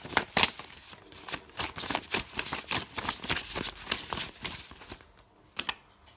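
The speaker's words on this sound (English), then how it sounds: "So let's pull some cards just to get a clarifier." Tarot cards are shuffled and drawn in a quick, close rhythm of crisp riffling flicks, steady for several seconds before tapering off to a few soft taps.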